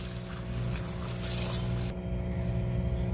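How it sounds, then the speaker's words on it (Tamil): Water pours steadily into a pressure cooker holding tamarind, salt and vegetables for a cabbage-brinjal dish, a close, continuous rushing that cuts off abruptly near the end. "இப்போ இதுக்கு தண்ணி சேர்த்துக்கிட்டு"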